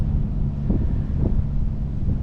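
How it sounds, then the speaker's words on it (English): Steady low wind buffets the microphone with a constant rumbling roar, with faint gusty surges, no voices, while aboard a Nordhavn 62 at Cat Island or Eleuthera. "It's a little bit windy"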